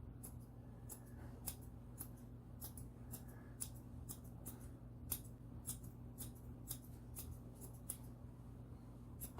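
Scissors trim the hair of a standard poodle's topknot in a long series of quick, crisp snips. The cuts are faint and irregularly spaced over a low, steady background hum.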